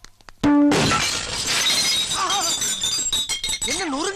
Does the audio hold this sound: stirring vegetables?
no